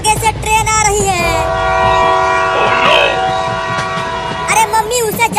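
A train approaches on a railway line, its horn blaring in long sustained tones with rail rumble beneath, loud and close, with a brief swell of other noise midway.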